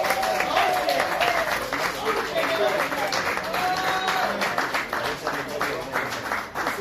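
Guests at a wedding applaud the parents with a dense, continuous round of clapping that runs throughout, while voices and chatter carry underneath.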